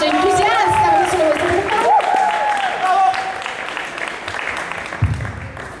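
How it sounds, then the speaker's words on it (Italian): Crowd at an Italian poetry slam applauding, a broad wash of clapping with cheers and voices layered over it, gradually thinning out. "Grande applauso, entusiasta!"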